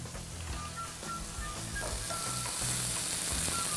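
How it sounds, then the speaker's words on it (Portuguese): Meat frying in a pan for a cassava and chicken broth, a continuous crackling sizzle with occasional stirring scrapes from a wooden spoon, close and fairly quiet. "Deixa dar uma boa fritura."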